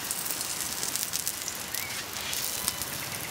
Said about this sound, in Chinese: 咱们加油开始煎了啊